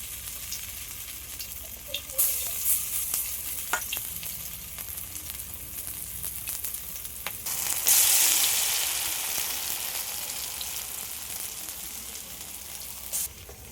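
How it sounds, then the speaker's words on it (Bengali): Banana flower fritters crackle steadily in hot white oil, a dense frying sizzle running throughout with occasional sharper pops and a brief louder surge midway as more batter hits the pan. "আর আমি এই পড়াগুলো সাদা তেলেই ভেজে নেব তেলটা গরম হয়ে গেছে"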